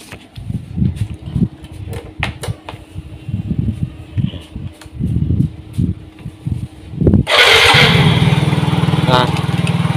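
Suzuki Soul GT scooter with an unstable, stalling idle after a new ISC sensor is fitted: clicks and handling noises under a voice, then the engine catches near the end and settles into a loud, steady idle.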